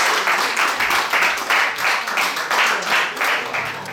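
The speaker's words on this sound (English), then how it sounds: "can we get a big Long round of Open applause" Sustained audience applause after a magic show, dense and steady clapping from many hands with no talk on top, swelling in gentle waves for the full stretch.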